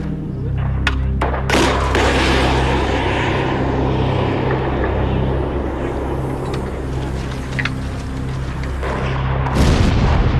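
Missile explosions in Iraq rumble as a loud, sustained roar with a few sharp booms near the start and a heavy blast near the end, distant and continuous, with no clear speech.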